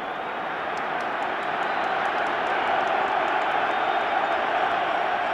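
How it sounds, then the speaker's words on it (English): A big Wembley Stadium football crowd at the 1973 England v Poland World Cup qualifier roars in a steady, loud wash of massed voices that swells slightly and holds for the whole stretch, without pauses. "the exciting sound of a Wembley crowd rising to encourage England at the moment"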